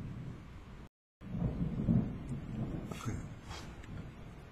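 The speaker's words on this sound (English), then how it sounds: "Love the thunder in the background." Thunder from a storm outside rolls as a low, steady rumble after a brief dropout, with faint rain and wind hiss over it and no talking.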